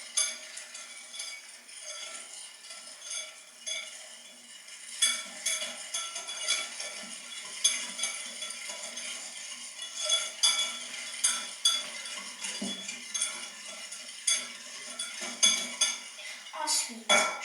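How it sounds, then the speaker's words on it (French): Apple cake batter being mixed in a bowl after yeast is added, with a utensil clinking and scraping against the dish in steady irregular strokes, close and fairly quiet, with occasional talking over it. "puis je recommence à mélanger"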